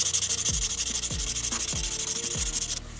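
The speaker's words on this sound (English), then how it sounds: "Got it all sanded down nice and smooth." A small wooden fishing lure is sanded by hand in steady, rhythmic back-and-forth strokes, a close, loud scratchy rubbing that repeats about twice a second before stopping abruptly near the end.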